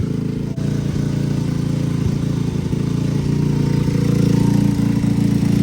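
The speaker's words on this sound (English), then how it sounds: "That's a cold start. Alright, with the choke out, it's cold, so it's gotta warm up." Boom Vader Grom motorcycle with a Nibbi PE 24mm carburetor idling after a cold start with the choke out, a steady low putter that runs evenly at close range for several seconds.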